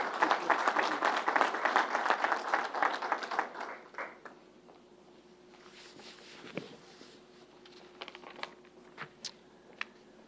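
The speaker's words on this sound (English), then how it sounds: "they need a round of applause as well" Audience applause at a public announcement by Governor Andrew Cuomo in Nassau County: dense clapping for about four seconds, then fading to scattered claps and room noise.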